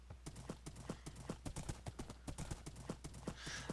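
In the Minecraft video game, a horse trots with quick, evenly spaced clip-clop hoofbeats, sharp and fairly close, keeping a steady rhythm throughout with a faint whoosh near the end.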